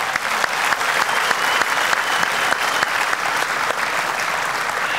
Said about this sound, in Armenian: մի հատ ծափտվեք